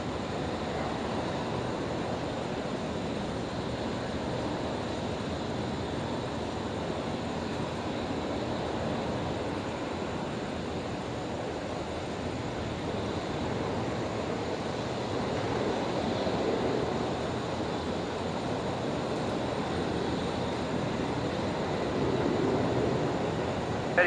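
An airliner landing at Brisbane Airport, its engines at idle reverse thrust, makes a steady broadband roar that swells slightly toward the end, with a wind-like wash of noise throughout and no talking.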